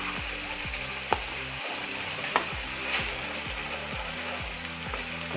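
Paneer curry with water and cream being stirred in a pan, a low bubbling simmer under a few sharp spoon knocks against the vessel, fairly quiet and close.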